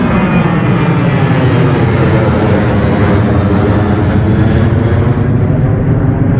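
An airplane roars loudly overhead near an airport in Las Vegas, a steady, close jet-engine rumble filling the whole few seconds with no talking.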